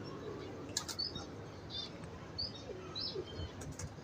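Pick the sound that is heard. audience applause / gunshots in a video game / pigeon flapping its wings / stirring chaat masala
pigeon flapping its wings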